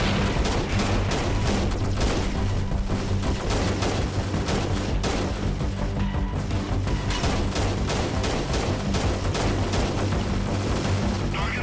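Heavy gunfire from many weapons during a siege in the video game Freeman: Guerrilla Warfare, a dense, continuous barrage of overlapping shots and booms with a faint voice underneath.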